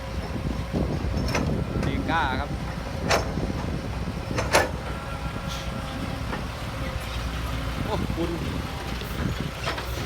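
Wind gusting across a Thai earth-digging site where stockpiled soil kicks up dust, a constant low rumbling buffet on the microphone under speech, with a few sharp knocks and clatters.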